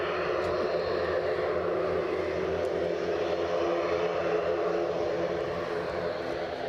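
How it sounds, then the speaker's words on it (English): An Aer Lingus ATR turboprop airplane flying to Dublin drones steadily overhead, a sustained engine roar holding even loudness throughout with no talk. "Aer Lingus ATR to Dublin"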